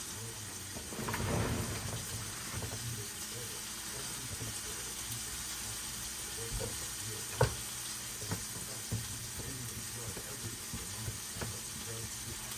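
Zucchini added to a frying pan beside pork chops, sizzling in a steady broad hiss throughout, with a few clanks of utensils and a brief swell of stirring near the start.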